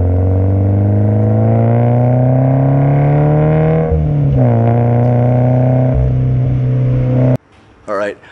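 A Subaru BRZ fitted with an Invidia N1 exhaust revs up close and loud, its engine note climbing steadily in pitch, dipping with a throttle blip, then cutting off into a short burst of other noise.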